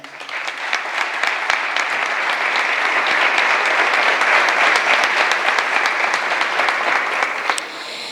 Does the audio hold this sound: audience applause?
yes